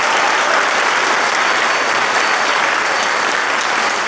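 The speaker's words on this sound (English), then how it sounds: "one big round of applause for those students." Dense, steady audience applause for student performers at a school spring concert, a loud, even wash of many hands clapping throughout with no talking.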